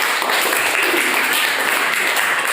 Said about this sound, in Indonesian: kita beri aplaus ya untuk kelompok 2 Sunan Ampel ya